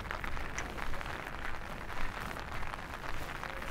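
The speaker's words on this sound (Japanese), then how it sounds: "パチパチパチパチ水滴、雨粒の音が入って聞こえないかもしれないですね。" Rain patters on an umbrella while walking at a rainy cyclocross venue, a dense continuous crackle of drops close overhead with no speech.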